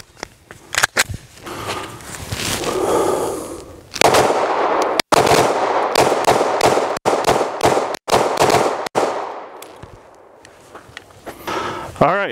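A pistol with a G-Flex trigger, loaded with 17-round magazines, fires in rapid strings of loud, close shots at a target, with brief pauses between strings and people talking around the shooting.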